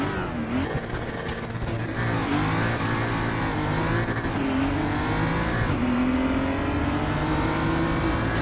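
Several BMW M235i race cars roar off the line together at Sonoma in the RaceRoom game, engines revving hard with rising and falling pitch sweeps as gears change, loud and continuous throughout.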